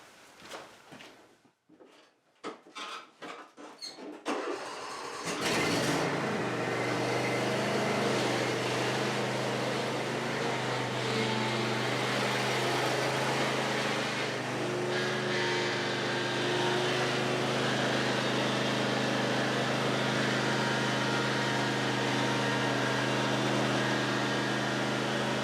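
A lawn tractor engine catches after a few sputtering cranks, then settles into a steady, loud, close idling drone and keeps running as the machine moves.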